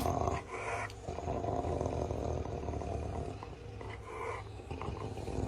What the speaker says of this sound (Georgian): როტვეილერის გრუხუმი.